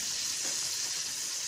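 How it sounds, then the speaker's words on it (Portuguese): Marinated steak fillet frying and browning in a pan for a simple Sunday lunch, giving a steady, close, continuous hiss and sizzle with no talk. "E eu vou deixar ele fritando, dourando."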